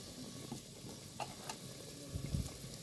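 Fish simmering in a pan for a sour bilimbi curry, giving a steady soft sizzle and bubbling with a few faint stirring clinks, close and continuous with no one talking.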